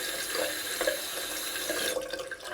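Tap water runs steadily over a shaving brush, rinsing the soap from it, in a close continuous splash and gurgle that changes slightly near the end.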